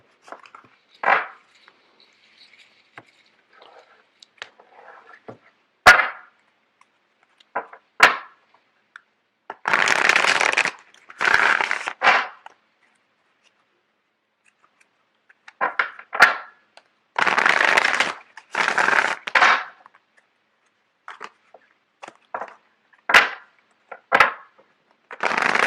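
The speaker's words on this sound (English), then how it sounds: "Just give me a second while I get the cards shuffled out." Tarot cards being shuffled by hand come in several short, papery riffling bursts and scattered soft clicks, separated by quiet pauses, close by and fairly loud.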